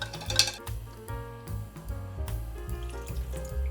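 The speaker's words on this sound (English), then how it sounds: "As you pour this salt solution over them" Salt brine, 10 grams of salt per 100 millilitres of water, poured over chicken pieces makes a close, steady splashing trickle of liquid with light clinks, with no talking.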